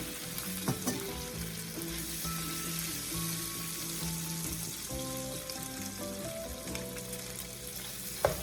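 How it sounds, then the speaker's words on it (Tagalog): Shrimp sautéing in a pan for garlic butter Cajun shrimp, sizzling steadily and close up with soft stirring clatter throughout. Background tones are faint and no one speaks. "just saute this for like at least 2 to 3 minutes just to make the shrimps turn into orange"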